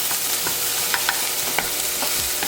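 Garlic sizzles in a pan with sesame seeds over medium gas, a steady close hiss broken by a few soft stirring taps, with no talking.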